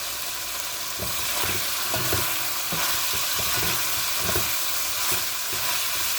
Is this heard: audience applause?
no